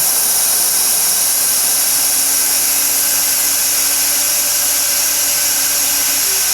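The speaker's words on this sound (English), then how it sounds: "pull the relief valve on either the keg itself or the coupler" Pressurized CO2 rushes out of a keg's pulled pressure relief valve in a loud, continuous hiss that holds steady throughout, close up with no talking.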